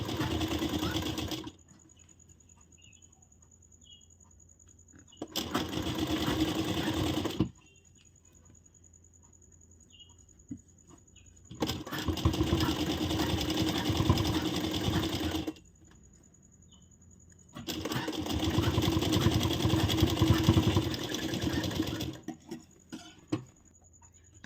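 A sewing machine runs a double line of stitching along a blouse seam in four separate bursts of steady, fast whirring, each several seconds long, with quiet gaps between them.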